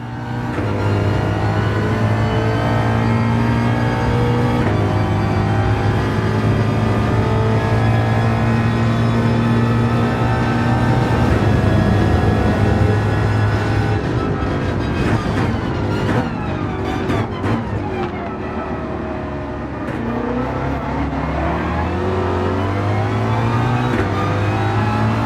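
Race cars in a racing video game compete on track, engines revving loudly and continuously with pitch rising and falling through gear changes, with cars passing close by in the middle stretch.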